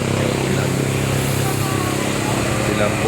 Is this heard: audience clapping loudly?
no